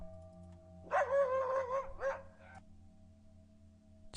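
A dog barks in a sound effect for a horror radio story, a few close howling barks, one drawn out and another short, then quiet room tone.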